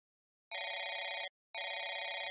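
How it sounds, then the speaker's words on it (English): A telephone bell rings in two clear bursts of about three-quarters of a second each, separated by a short pause, loud and close with nothing else around it. "I don't know how long I'd been outside when the phone rang."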